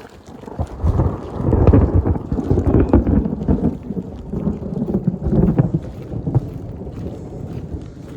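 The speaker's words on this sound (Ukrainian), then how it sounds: "Тепер у нас валить дощ і грім і страшно йти." Thunderstorm with heavy rain in the Carpathian mountains, where deep rolling thunder rumbles loudly and continuously beneath a steady rush of rain and gusts of wind buffeting the microphone, with no voices heard.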